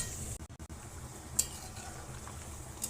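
Food being stirred and sautéed in a pan, a steady low sizzle with a few soft scrapes and clinks of the utensil, close and quiet.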